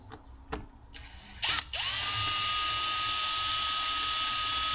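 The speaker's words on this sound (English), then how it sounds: "I'm gonna go ahead and start these flat heads just to loosen this up a little bit." A power tool loosens flat-head screws on the air intake of a 2015-or-later Ford F150. A few brief spurts lead into a loud, steady, high-pitched whine that runs close up until the end.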